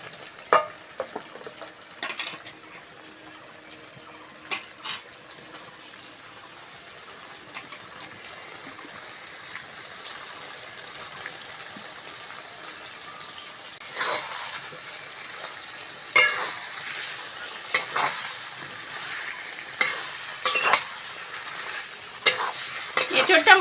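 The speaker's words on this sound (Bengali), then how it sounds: "এঁচড়টা মশলার সঙ্গে ভালো করে কষে নেব।" Boiled green jackfruit frying and being stirred with spices in a pan, a steady sizzle broken by repeated scraping strokes of the spoon that grow busier and louder toward the end, with no talking.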